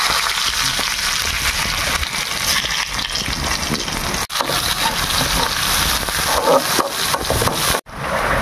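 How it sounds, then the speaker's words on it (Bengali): Loud, steady sizzling and crackling of garlic frying in hot oil, continuous hiss with a couple of brief dips. "আগে আমি রসুনটাকে ফোড়ন দেবো।"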